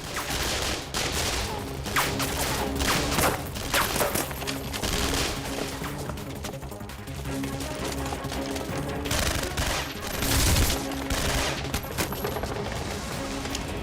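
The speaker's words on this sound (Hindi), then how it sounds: "पीछे तो इधर से भी फायरिंग हो रही है।" Gunfire rattles through a shootout in dense, rapid bursts of sharp cracks and automatic volleys, loud and continuous across the scene.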